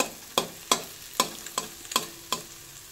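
Maggi masala fries in a pan with a low, quiet sizzle, punctuated by six sharp, evenly spaced spatula taps against the metal.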